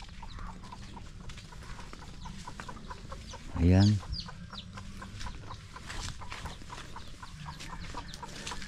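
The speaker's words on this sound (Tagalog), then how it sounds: "Hanapin lang natin yung ating manok na namisa" A hen gives a single loud cluck close by, amid a quiet outdoor background with faint ticking and a brief spoken word.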